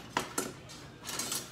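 Metal utensils, a spatula or spoon, clink and scrape against a pan holding cooled smoked food: two sharp taps near the start, then a longer rattling scrape toward the end, close and fairly quiet with no talking.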